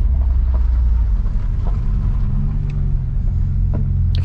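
A BMW E90 with a built engine and an 8HP70 automatic swap spins its wheels, producing a loud, steady low engine roar and rumble throughout, with wind buffeting on the microphone and no talking.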